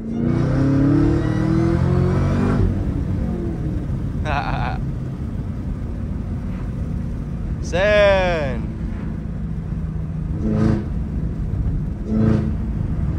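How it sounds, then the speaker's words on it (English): A supercharged Chevrolet Camaro ZL1 1LE engine drones steadily, then revs up sharply on a downshift in a quick rising supercharger whine before settling back, with a brief laugh and a spoken word nearby. "Y'all can hear the supercharger."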